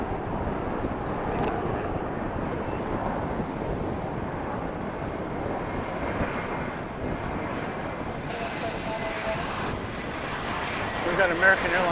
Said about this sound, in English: Got another American Airlines Flight 1456. This one's on its way to Salt Lake City. Another A321.